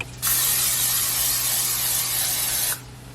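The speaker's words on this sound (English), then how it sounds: "Spray my pan" A steady, close hiss of aerosol cooking spray onto a pan, lasting about two and a half seconds before cutting off.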